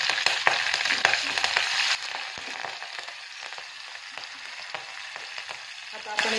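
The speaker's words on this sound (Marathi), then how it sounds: "आता आपल्याला याच्यामध्ये कढीपत्ता टाकून घ्यायचा आहे।" Curry leaves dropped into hot oil with cumin and coconut for a tempering, bursting into a loud crackling sizzle that is strongest for the first two seconds, then settles into a softer continuous hiss with scattered pops.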